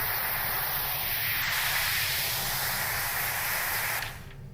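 A steady, loud spray hiss from a ghost-busting VR video game runs for about four seconds and then cuts off abruptly.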